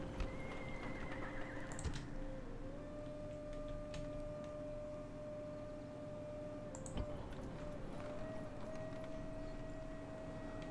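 Horses whinny in the Rome: Total War game with the Europa Barbarorum mod, drawn-out neighs over a soft bed of hoof clip-clops and occasional sharp ticks, with no talking.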